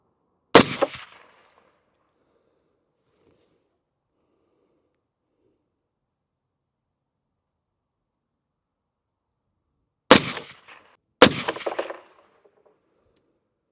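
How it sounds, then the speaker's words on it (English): A suppressed POF Revolution .308 piston rifle fires Federal Gold Medal 168-grain Sierra MatchKing match rounds: three sharp muffled reports, one alone and then two about a second apart after a long silence, each with a brief decaying tail. "next up we've got the Federal 168 grain Federal Gold Medal Sierra Match Kings"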